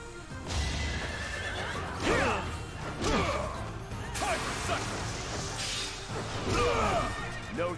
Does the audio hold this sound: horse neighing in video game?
yes